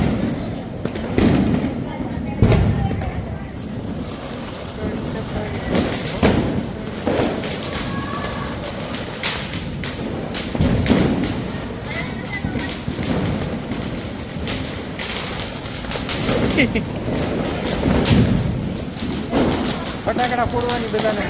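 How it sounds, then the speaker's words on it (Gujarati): Diwali firecrackers burst repeatedly in sharp, booming thuds spread through the scene, with people talking and background festive noise throughout. "પોતપોતાની રીતે બધા ફટાકડા ફોડે છે"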